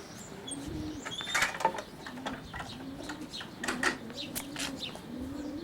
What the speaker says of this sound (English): the pigeons fly in, they drop on the bottom, they walk into the lets